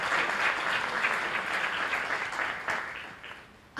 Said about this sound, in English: please a round of applause for these wonderful young leaders